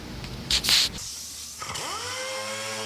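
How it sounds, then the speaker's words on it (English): Dual-action sander with 320-grit paper on aluminium Alcoa big-truck rims. Brief scraping rubs are followed by a short pause, then the tool whirs up to speed with a rising, steady hum, close by and without talk. "We're going to start out with some 320 grit sandpaper on a dual action sander."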